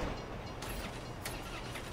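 A train rolling past in Grand Theft Auto V, a steady close rumble with rhythmic wheel clacks and a couple of sharp metallic clicks, loud and unbroken.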